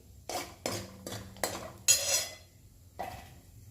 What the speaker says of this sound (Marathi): तर आता हे तूप गरम झालेलं आहे आणि कमी फ्लेमवरतीच ते बदाम मी रोस्टेड करून घेणार आहे।